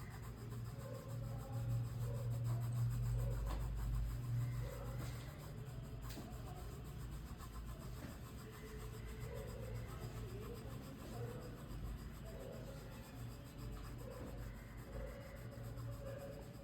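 Pencil shading on paper while the pencil is rotated to darken areas of a sphere drawing: a soft, steady rubbing scratch that carries on without pause, faint and close.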